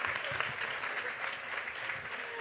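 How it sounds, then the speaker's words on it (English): Applause from an audience at a school assembly for a group of girls, steady dense clapping filling the room without a break, moderately loud and continuous throughout. "Another big round of applause for these girls."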